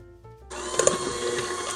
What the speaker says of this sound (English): we're going to mix them together until they are well combined with a hand mixer